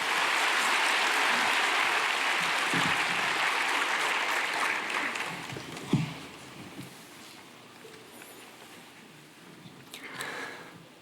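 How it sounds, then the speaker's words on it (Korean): A church congregation applauds to welcome a testimony speaker before a baptism, with dense, sustained clapping from a large crowd that slowly thins and fades, followed by a brief final swell of claps. "우리 박수로 환영하겠습니다"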